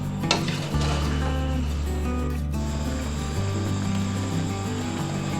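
Raw mango murabba simmering in a pot and stirred repeatedly, a steady low bubbling and scraping texture that stays continuous and fairly close throughout, with no voices.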